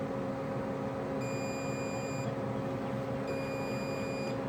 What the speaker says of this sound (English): it'll make this really super loud beep that you got to be real close to the grill to hear